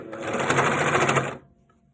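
A sewing machine stitches ribbing onto fabric, the ribbing stretched slightly, with a rapid, even mechanical whirr and clatter close by that stops abruptly near the end.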